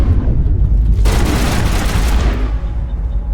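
A loud booming blast as enemies explode in Mass Effect, a deep rumbling burst that swells sharply about a second in and rolls on before tapering off.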